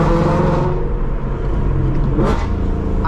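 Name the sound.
2016 Ford Mustang GT exhaust with Kooks headers and Corsa catback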